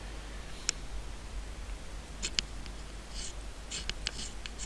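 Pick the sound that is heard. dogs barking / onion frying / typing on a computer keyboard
typing on a computer keyboard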